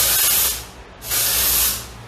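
Dry shampoo sprays from an aerosol can onto hair during bridal hairstyle prep, heard as two close, loud hissing bursts with a brief gap between them and no voices.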